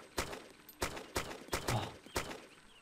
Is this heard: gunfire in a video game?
yes